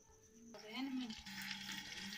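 Ghee melting in a cooking pot set on a lit stove, a faint soft sizzle that begins partway through, with a low tonal hum running underneath.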